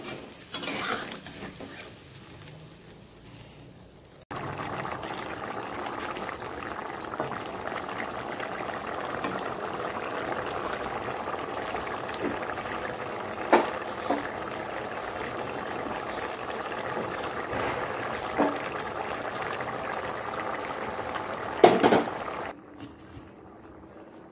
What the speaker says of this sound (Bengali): 2-3 মিনিট ফোটাই নিলই আমার রেডি কাঁঠাল বিচি দিয়ে চিংড়ি মাছ।